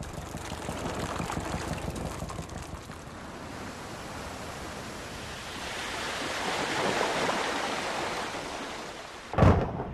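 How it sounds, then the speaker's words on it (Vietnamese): Strong wind roars over a rough sea ahead of a typhoon in the South China Sea, a loud, continuous rushing surge with crashing waves, ending in a sudden sharp thump. "Gió mạnh, biển bắt đầu động cấp 5, cấp 6."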